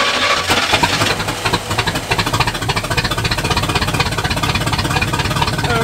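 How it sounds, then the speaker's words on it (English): A 1985 Oldsmobile Cutlass engine is cranked by its starter and fires, the steady cranking giving way to a loud, rapidly pulsing running engine close by with no radiator fitted. "We're about to find out if the starter's good or not."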